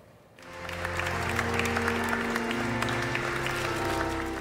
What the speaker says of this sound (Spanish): Fue entre cantos y aplausos que se realizó el funeral